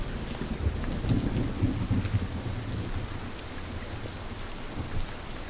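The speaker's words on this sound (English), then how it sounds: "They did a great job with the rain sound in this game." Steady rain in a video game's swamp-like biome, a continuous close wash of falling drops with soft low thunder rumbles rolling through the first half, no voices.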